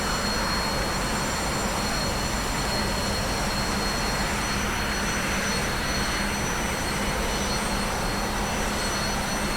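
T-45C trainer jet engine in a flight simulator game, a steady loud broadband roar with a high whine running throughout at constant level, no talk over it.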